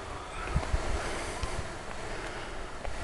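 Wind and gentle waves along the rocky Caspian Sea shore near Aktau, a steady hiss of breeze and surf with a few soft low thumps of wind against the microphone, no voices.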